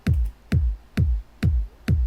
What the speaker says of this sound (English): I created a kick and a top kick to sound like this.